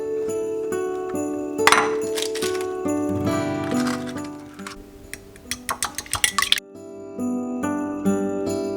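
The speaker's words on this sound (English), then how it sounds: "When it cools, stir in the beaten eggs." Beaten eggs being stirred into a cooled Christmas cake mixture with fruit and rum, giving close, irregular clinks and scrapes of a utensil against a bowl, with a quick burst of light tapping near the end.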